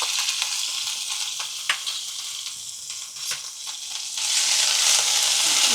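Ginger, chili and garlic paste sizzles loudly in hot oil while being stirred, a dense close frying hiss with intermittent scraping strokes that swells louder toward the end.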